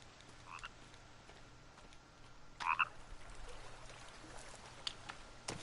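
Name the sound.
frogs croaking in The Forest video game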